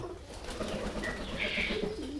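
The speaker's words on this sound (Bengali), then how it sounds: "আমার কাছে অনেক সাইজের কবুতর আছে অনেক ভালো ভালো কবুতর আছে" Pigeons of various sizes, local and foreign breeds, coo softly and steadily inside a rural loft, with a little wing rustle underneath; no one speaks.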